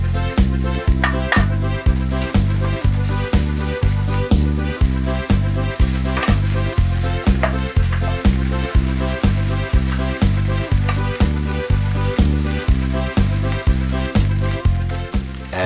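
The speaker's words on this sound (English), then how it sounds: "We'll fry the bacon with the potatoes so they pick up some of that good taste." Bacon and potatoes for rosti hash browns fry in a pan with a continuous sizzle, set under a steady, evenly pulsing rhythmic beat that repeats throughout.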